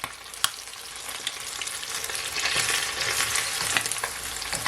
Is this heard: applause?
no